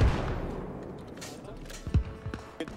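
Gunfire from a tree line in Arma Reforger: a heavy opening blast fading into rumble, then scattered distant shots and cracks, with a voice talking over it.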